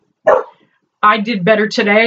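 A dog gives a single short bark in the background, then a person speaks close up.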